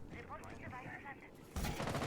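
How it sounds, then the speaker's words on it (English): Rapid gunfire from the tactical shooter Rainbow Six Siege during a college esports match, starting as a sudden loud dense burst after a stretch of commentators talking over quieter game sound. "and the gunfire started"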